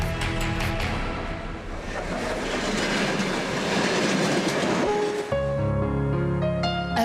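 A train rolls into a railway station, loud rumbling and clattering wheels with squealing brakes, then settles into a lower humming tone as it slows, heard alone without speech.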